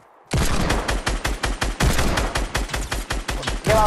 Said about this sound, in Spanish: Le he metido dos tiros yo, tío.